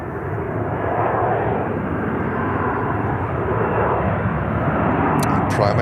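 An airliner on runway 36 left at Charlotte airport holds a broad, continuous engine rumble at steady loudness, with faint voices under the noise.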